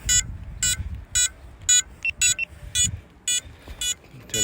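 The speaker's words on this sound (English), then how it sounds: "Turn the buzzer off." A high-pitched FPV drone buzzer beeps in a steady series of short, evenly spaced pulses, loud and close, over low rumbling background noise.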